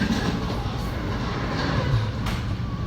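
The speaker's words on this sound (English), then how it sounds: "Metro faster than high speed train." A Chicago Metra commuter train rushes past nearby, its loud steady roar and rumbling wheels filling the whole stretch without a break.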